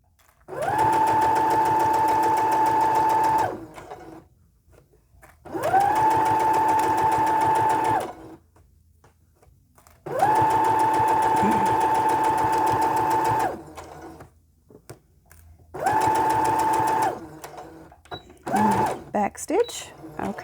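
A sewing machine stitches a quarter-inch seam in fabric for a doll beanbag chair, running in four separate bursts of steady mechanical whirring, each a few seconds long, with quiet pauses and brief sounds between them.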